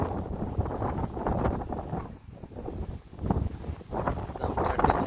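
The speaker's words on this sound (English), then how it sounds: "Heavy wind." Heavy, gusty wind buffeting the microphone in a city park, a loud rumbling roar that surges and dips over several seconds without letup.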